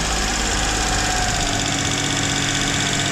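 A car engine idles steadily while warming up after its idle air valve was adjusted, a continuous close, loud hum with a faint uneven knock and vibration, alone without talk.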